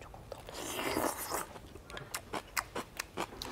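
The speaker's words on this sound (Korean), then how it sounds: "씹는 소리 맛있게 들린다" Close, crunchy chewing of raw sea bass with yeolmu kimchi, wet bites and a quick, irregular rhythm of crisp crunches, loud and intimate, with no speech.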